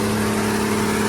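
Perkins engine on a heavily loaded river boat running loud and steady at close range, a continuous droning hum with a firm low tone, no voices over it.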